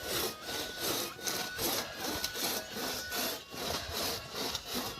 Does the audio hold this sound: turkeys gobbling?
no